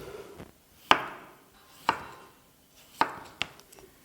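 Meat being chopped finely with a knife on a board for Bodrum çökertme kebab: four or five crisp, evenly spaced chops, close and clear with no talking.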